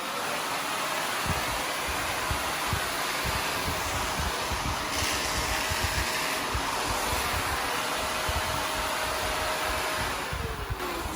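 A Shark NV356E Navigator Lift-Away upright vacuum runs steadily with a loud, continuous broadband whine and airy rush, its motor tone holding even for the full stretch without pauses.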